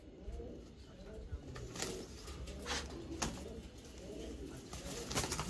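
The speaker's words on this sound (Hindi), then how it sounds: "ये जो मेरे पीले कबूतर निकलते हैं" Yellow pigeons of a racing club bloodline coo softly in repeated low throaty calls from a loft, fairly faint, with some background rustle and possible distant voices.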